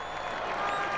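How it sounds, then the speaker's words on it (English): In the MotoGP 19 video game, a race crowd cheers and applauds in a brief, faint, continuous wash of noise after a win. "The crowd is going wild, and finally they can enjoy this deserved moment of glory."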